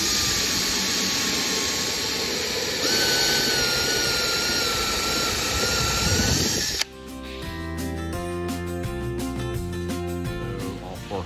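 Loud, steady high-pitched whine of a drill boring holes in a Toyota 4Runner part runs for about seven seconds, then cuts off abruptly as music takes over for the rest.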